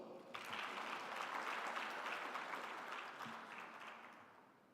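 An audience applauds steadily at an engineering presidential inauguration, a dense wash of clapping that holds for several seconds before tapering off, with no voices over it.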